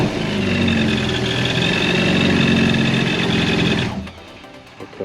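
A 2021 Yamaha FX Cruiser SVHO personal watercraft engine idles steadily and fairly loud for about four seconds, then shuts off, leaving near quiet with a few faint clicks.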